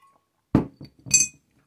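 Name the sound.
glass clinking while taking a drink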